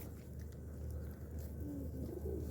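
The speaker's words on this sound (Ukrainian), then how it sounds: "Послухайте, як вони воркують." Pigeons coo softly in a city in winter, a few low throaty calls under a steady ambient hum, with no one speaking.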